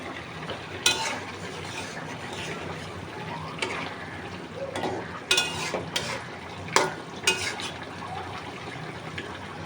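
Pangas fish sizzles steadily in a pan, a dense, even crackle with occasional louder sharp spikes and stirring clatters standing out from the frying hiss.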